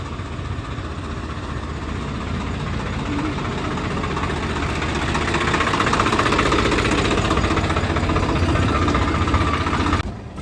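A tractor engine runs steadily on a farm, a loud continuous low rumble with a knocking idle that swells slightly midway before cutting off sharply near the end.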